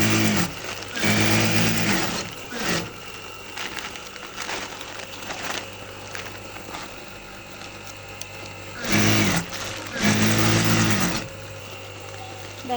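A sewing machine stitches the side of a sack bag in two loud, whirring bursts of a few seconds each, separated by quieter handling and rustling of the fabric.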